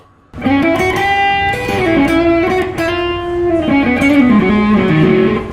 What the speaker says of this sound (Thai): ก็ประมาณนี้ครับสำหรับเสียงแตกของเจ้ากีตาร์ตัวนี้นะ